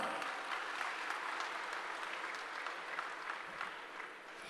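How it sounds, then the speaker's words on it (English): Steady, dense applause from a large audience at a technical session, a continuous wash of hand claps filling the room with no talking over it. "Please give him a huge round of applause"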